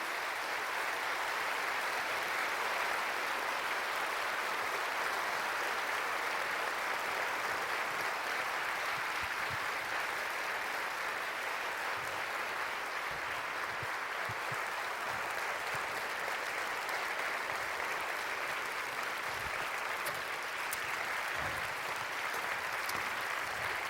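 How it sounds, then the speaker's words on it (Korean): Sustained applause from a church prayer meeting audience welcoming a group of arts mission teachers to the stage, a dense, steady roar of many hands clapping continuously for over twenty seconds. "우리 박수로 한번 모셔보도록 하겠습니다."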